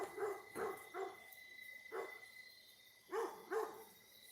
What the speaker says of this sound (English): got the dog barking